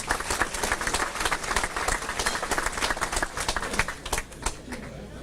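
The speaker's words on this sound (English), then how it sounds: "let's give them a round of applause" Banquet audience at a 1999 Pennsylvania Sports Hall of Fame dinner breaking into applause, many hands clapping in a dense, steady patter that thins and fades toward the end, heard from within the room.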